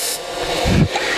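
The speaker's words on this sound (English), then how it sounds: "I take the parting tool and I create a slight shoulder right where my lines are" A parting tool cuts a slight shoulder into wood spinning on a lathe, a short rough scraping rasp that swells briefly and then fades, heard alone and fairly close.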